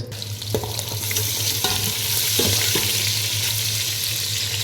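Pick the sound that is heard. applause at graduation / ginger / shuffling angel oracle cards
ginger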